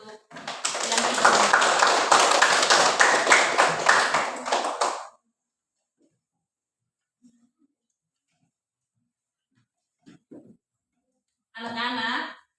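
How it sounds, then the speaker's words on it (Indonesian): Schoolchildren in an Indonesian primary classroom burst into loud, dense hand-clapping for about five seconds; it stops abruptly, leaving silence broken by a few faint taps and brief voices near the end. "Ya, tepuk tangan untuk yang itu."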